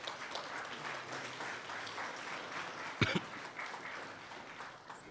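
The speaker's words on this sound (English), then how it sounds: "Let's give them a round of applause." An audience at a national aviation honours ceremony applauds the Royal Bahamas Defence Force Air Wing, a steady, fairly faint wash of clapping that runs throughout, with one sharper knock near the middle.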